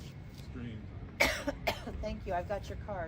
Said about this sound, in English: I'm sorry for the cough.